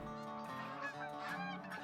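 Several geese honk repeatedly as two flocks of about fifteen circle overhead during a hunt. The overlapping calls are clear and somewhat distant, with no talking.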